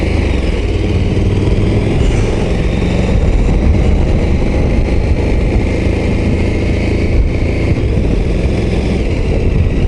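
KTM 1290 Super Adventure S motorcycle engine held at about 2000 rpm in fourth gear, shuddering and knocking, a loud, steady, close rumble that continues unbroken throughout with no voices.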